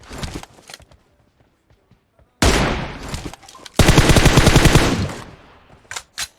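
Loud gunfire from an M24 sniper rifle in a video game, bursts at about 2.4 s and from 3.8 to 5.3 s with sharp shots near the end, under brief talk.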